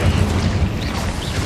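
Incendio fire spell cast during combat in Hogwarts Legacy, a dense, roaring burst of flame with heavy low rumble that holds steady throughout, loud and close.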